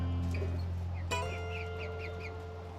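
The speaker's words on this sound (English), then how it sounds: "you already kind of sort of met Steve the Rooster over there" A rooster at an Alaska campsite gives a few short clucks over a steady low hum of outdoor background noise, fairly close, with no talking.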